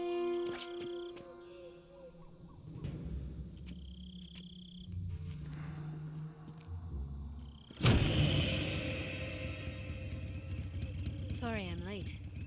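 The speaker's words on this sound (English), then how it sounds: "Cut the engine. They'll hear us." A car engine in Metal Gear Solid 3 rumbles low, then surges into a loud, rough roar partway through and keeps running, with voices speaking nearby.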